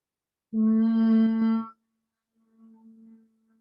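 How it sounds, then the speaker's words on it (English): A person hums a steady low tone while exhaling into a yoga forward bend, close and clear for about a second, then a fainter, shorter hum follows after a pause. "Exhale, I'm going to do that humming sound forward."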